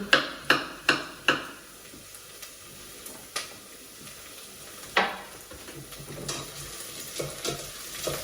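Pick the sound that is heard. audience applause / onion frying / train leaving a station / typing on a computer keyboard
onion frying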